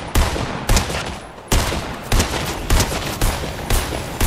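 Gunfire in the video game Fortnite: a series of sharp, loud single shots at an uneven, roughly half-second rhythm, each with a short crack and a brief tail, with no talk.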